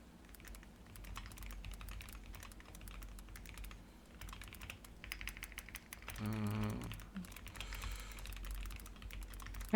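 Rapid computer keyboard typing clatters on and off, close and fairly quiet, with uneven bursts of keystrokes and a brief low hum partway through.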